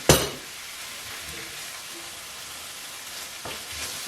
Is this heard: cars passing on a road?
no